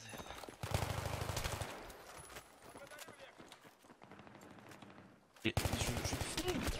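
Video game gunfire during a Counter-Strike style match on the Grand Bazaar map, with bursts of rapid shots at the start and again near the end, and quieter crackle between them, while players talk over it.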